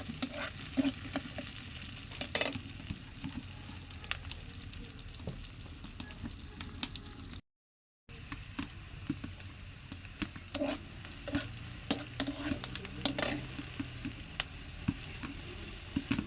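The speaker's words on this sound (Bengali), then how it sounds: "নেড়ে চেড়ে নেব।" Fish frying with okra and green chili is stirred in a pan, a steady sizzle running under irregular scraping strokes, with a brief silent gap midway.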